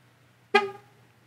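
A single short, bright horn chirp sounds once from a Lucid Air Dream Edition nearby as it locks by key fob, then quiet.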